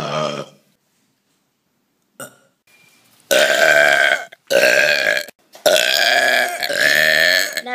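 Loud, drawn-out burps at a burp contest: a short belch, then a long silence, then three long, forceful eructations in quick succession, close and unaccompanied.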